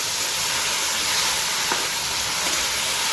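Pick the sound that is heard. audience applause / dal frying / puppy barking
dal frying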